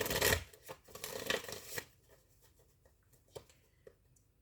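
Tarot cards are riffled and shuffled by hand at close range, a dense papery burst in the first two seconds followed by a few sparse taps and slides as the deck settles, with no voices.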